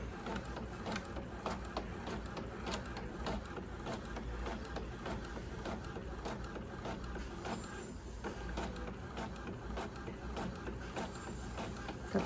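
An inkjet printer feeding and printing an A5 page, with a steady mechanical whirring and rapid rhythmic clicking of the print head running continuously at moderate level, no voices.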